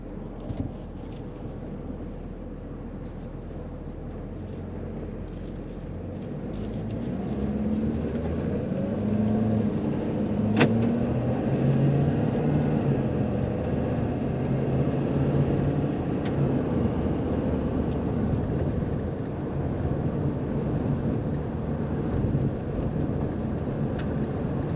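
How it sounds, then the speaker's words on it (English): A 2013 Ford F350 diesel 4x4 truck cruising on a freeway, with a steady low engine drone and road rumble that swells after a few seconds and holds, heard from inside the cab with no talking. "Let's jump out on the road here, get on the freeway, confirm 4-wheel drive works"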